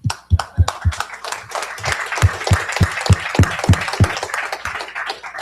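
An audience claps for students, a brief burst of sharp, fairly regular handclaps close by with a little crowd noise beneath.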